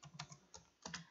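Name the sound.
typing on a calculator keypad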